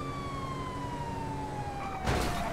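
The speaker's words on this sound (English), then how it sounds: "Need to put my sirens on because he's already got his going." In a military police patrol video game, a vehicle siren wails on an airbase taxiway as a steady, slowly falling tone over engine hum, and a sharp burst of noise cuts in near the end.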